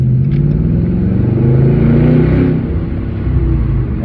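Car engine revving continuously, a loud, close, steady rumbling drone that swells slightly mid-way and holds, with no talk.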